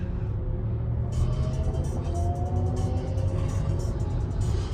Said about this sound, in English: it's amazing how this traffic is just continuous. It just doesn't stop.